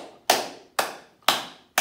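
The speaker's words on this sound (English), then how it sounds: "So I want you to now stay where you're standing and start clapping" Four sharp claps ring out at an even, slow beat, each one crisp and close with a short echoing tail, no voices over them.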